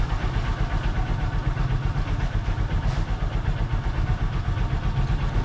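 A Honda Supremo motorcycle engine idles steadily while warming up in the morning, a close, even, low putter with a regular rhythm and no voices.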